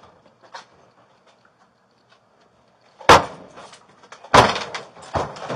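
Police force entry into a house door with heavy kicks: two loud, close booming impacts with rattling follow-through, a third thud after them, and a faint knock earlier in otherwise quiet surroundings.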